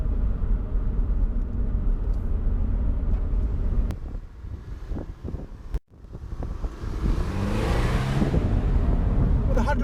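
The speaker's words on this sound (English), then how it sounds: "I love that little rasp when you put your foot down" A Toyota GT86 with a 197 bhp engine revs up under acceleration, rising into a raspy climbing drone through wind and road noise after a brief lull, with someone talking over parts of it.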